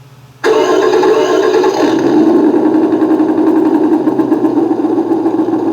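Sound module on a Kyosho DF300 1/12 scale RC car playing an engine start, a sudden loud crank that settles into a steady rumbling idle, close and continuous to the end.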